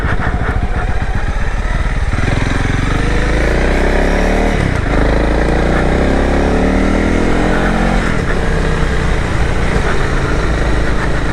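Honda CRF 300L motorcycle with upgraded suspension riding over a bumpy, potholed road; the engine drones loudly and continuously, its pitch rising and falling with throttle under heavy wind rush, and there is no talk.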